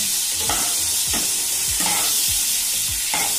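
Shrimp crackle in hot oil as they are flipped over in the pan, a loud continuous sizzle with several rhythmic scrapes and stirs, close and without talk.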